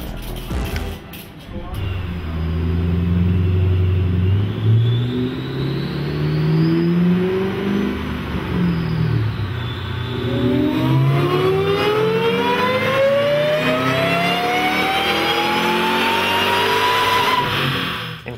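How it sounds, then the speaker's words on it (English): A supercharged Shelby SuperSnake muscle car revs hard, its deep engine note climbing through long pulls with a rising high-pitched supercharger whine layered on top, loud and close. "Next up is a SuperSnake and its fine supercharger whine."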